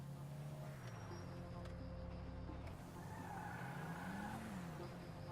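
A car drives in Grand Theft Auto, its engine droning steadily with rising revs and a brief tire squeal, continuous and fairly close under game sounds.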